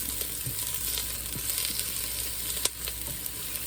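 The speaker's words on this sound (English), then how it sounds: "We've got the onions in there cooking" Onions frying in a pot on a sear setting give a steady, dense sizzle throughout, close and even, with a few faint stirring clicks.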